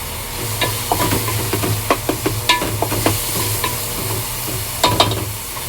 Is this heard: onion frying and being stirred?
yes